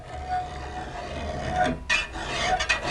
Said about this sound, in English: they often use a Speedy Sharp, which is great for just trimming up